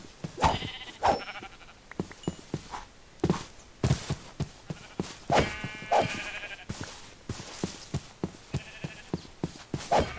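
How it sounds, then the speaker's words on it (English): Sheep in the video game Minecraft bleat repeatedly in short, sharp bursts, close and fairly loud, mixed with rapid tapping footsteps. "Yeah, there's a ton of sheep here."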